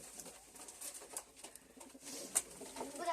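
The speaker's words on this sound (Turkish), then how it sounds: "posta güvercini" Soft, low cooing from a homing pigeon, faint and somewhat distant, with light background rustle.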